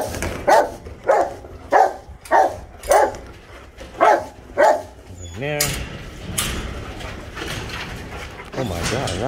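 Several Rottweilers bark in a steady series of loud, close barks at feeding time, then settle into whining and whimpering while a person talks nearby.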